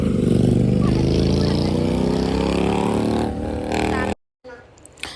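A group of motorcycle riders races past together, a loud engine roar that rises and fades with a voice talking over it, then a brief cut and quieter sounds.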